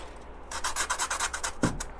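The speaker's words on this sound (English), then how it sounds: "you can just set it on a hard surface and rub against it to make it go away." Sanding by rubbing a piece back and forth against a hard surface: about ten close, even, rasping strokes in a steady rhythm that start after a short quiet pause, with no talking.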